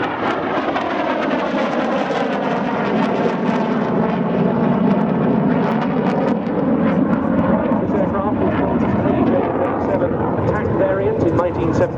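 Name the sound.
Saab Viggen AJS37 jet flying display at airshow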